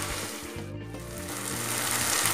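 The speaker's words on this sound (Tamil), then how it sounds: "இப்போ தக்காளி பழம் நல்லா வதங்கட்டும்." Tomatoes sautéing in hot oil in a pan for a Tamil brinjal gravy, a steady, close sizzle and crackle that holds through the whole stretch with no talking.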